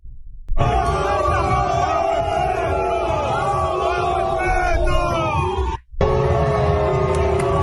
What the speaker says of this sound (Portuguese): Olhem as vaias.